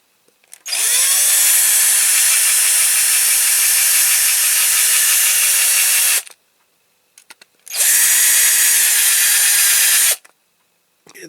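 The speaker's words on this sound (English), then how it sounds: "I'm going to drill this out." A power drill bores out part of a Dinky Supertoys Albion Chieftain cement mixer toy, running loud and steady in two long bursts with a short pause between, whining high with harsh hiss.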